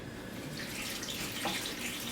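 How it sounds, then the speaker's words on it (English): Filtered water from a Berkey gravity filter pours into an Instant Pot in a steady, close trickling splash that runs evenly without pause, no talking. "I have filtered water from this Berkey water filter"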